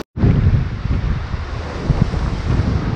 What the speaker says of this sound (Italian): c'è stato vento abbastanza forte e le onde sono importanti